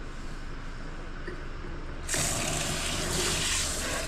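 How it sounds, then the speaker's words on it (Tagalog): Water gushes suddenly from a tap halfway through, a loud steady rushing stream following a quieter room hiss. "Malakas yung pressure ng tubig."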